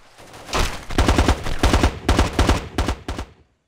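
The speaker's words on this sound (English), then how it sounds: "the AK was like going boom, boom, boom, boom, boom, boom, boom" An AK rifle firing full auto in Ghost Recon Advanced Warfighter 2 on PSP. It sounds as about six short, punchy bursts of rapid automatic fire, loud and close, separated by brief gaps. The last burst cuts to silence.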